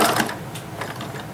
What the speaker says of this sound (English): Now I'm going to sew the crotch seam together.